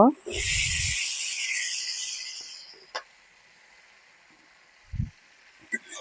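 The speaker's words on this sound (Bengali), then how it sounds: "এখন আমি ধুয়ে রাখা আলু আর ডাটাগুলো ছেড়ে দিব" Washed potatoes and vegetable stems drop into cooked spices in a hot pan with a soft thud, followed by a loud hissing sizzle that slowly fades, then a few faint clinks.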